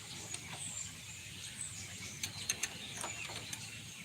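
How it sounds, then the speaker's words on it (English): Wrench working a jam nut on a 1981 Harley-Davidson FXB Shovelhead, faint metallic clicks and ratchety ticks scattered over a quiet hum, a few sharper taps near the end. "We need to screw the jam nut in or out or whatever"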